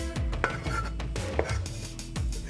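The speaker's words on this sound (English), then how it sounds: "Use about 2 tablespoons and chop it finely for best flavor" A knife chops fresh dill finely on a board, giving several quick, close knocks in an uneven rhythm over a steady kitchen background.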